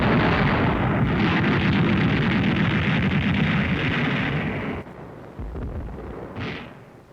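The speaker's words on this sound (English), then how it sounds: "Anti-aircraft guns were fired point blank as anti-tank guns until they were overrun." Heavy anti-aircraft guns firing in World War II Battle of the Bulge combat, a dense, sustained roar of booming blasts for about five seconds, then quieter rumbling with one brief sharp burst near the end.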